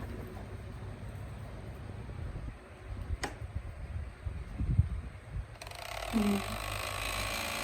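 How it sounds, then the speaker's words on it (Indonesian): A small battery-powered toy fan propeller on a miniature electricity teaching model spins with a faint, steady mechanical whir and light ratcheting clicks, becoming more noticeable partway through over a quiet room. "Kipas angin atau baling-baling yang ada di miniatur ini dia akan berputar."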